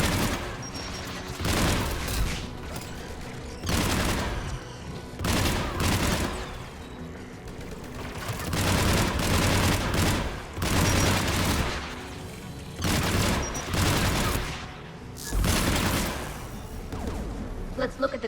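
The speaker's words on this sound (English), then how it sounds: "There, the anti-aircraft guns." Heavy anti-aircraft guns fire in loud, repeated bursts in Mass Effect 3, the booming volleys coming in rhythmic clusters with short gaps, with voices speaking between the salvos.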